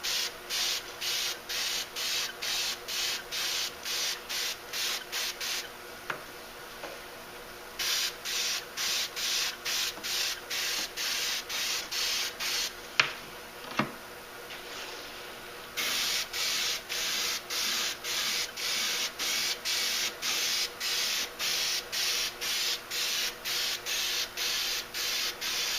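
A paint spray gun lays down light, even coats with a hiss that comes in rapid, regular bursts. The spraying is steady and fairly close, with two short pauses and no talking.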